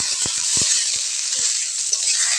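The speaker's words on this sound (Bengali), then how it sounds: "কুমড়ো শাকটাকে হালকা করে ভেজে নেব।" Pumpkin greens fry in hot mustard oil in a pan, giving a bright continuous sizzle with a few soft knocks and scrapes from stirring.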